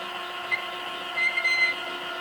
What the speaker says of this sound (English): you can see here our actuator moving